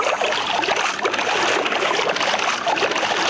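A boat moving on water, with a continuous rushing wash and splashing close by, steady and fairly loud, no voices.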